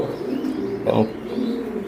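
Racing pigeons at a large breeding loft coo in low, throaty rolling calls that swell briefly in the middle, the cooing close and fairly loud, with no talking over it.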